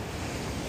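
Surf and wind at Casuarina Beach reserve, a dense continuous roar of breaking waves with buffeting wind across the microphone, steady and fairly loud throughout.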